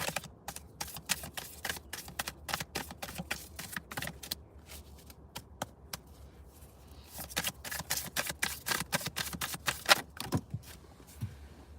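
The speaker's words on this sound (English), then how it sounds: "I love the way these cards shuffle." A deck of playing cards being shuffled over and over, giving dense bursts of crisp riffling flicks with short pauses between rounds, close and fairly quiet, with no speech.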